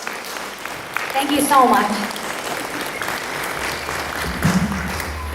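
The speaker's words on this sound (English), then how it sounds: "Everybody give a round of applause." Live audience applause on a talk-show set, loud and steady throughout, with a voice speaking briefly over the clapping partway through.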